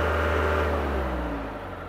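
A Yanmar YT359 tractor engine climbs in speed as the manual throttle is raised, a close, steady mid-pitched engine drone with a smooth rise in pitch before easing off slightly.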